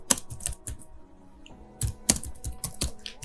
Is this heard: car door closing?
no